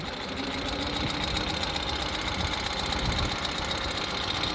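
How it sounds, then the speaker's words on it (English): A 2024 Ural Gear Up 2WD sidecar motorcycle engine pulls away in first gear with a steady, moderately loud mechanical chug and knocking rhythm that holds throughout. "we'll go ahead and release our parking brake to go into first gear, we squeeze our clutch, first gear like that, and off we go"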